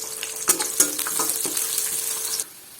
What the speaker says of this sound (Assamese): এইখন কেৰাহীতে পিঁয়াজখিনি দি ভাজি ল'ম